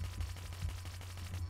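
A Bloodhound weapon fires in Battlefield Hardline, a slow-firing gun with an 80-round magazine. The shots come as a steady series of evenly spaced, rather faint bangs with no talking.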